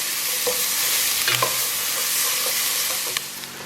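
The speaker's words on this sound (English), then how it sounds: "I'll stir this for a bit, and then I will be back." Vegetables for a red chowder sautéing in a pot, a dense close sizzle broken by a few light scrapes and knocks of the stirring spoon, with no talk.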